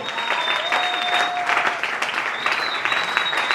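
A church congregation applauds in a sustained wash of clapping lasting several seconds, with a few high whistles or cheers rising over the crowd.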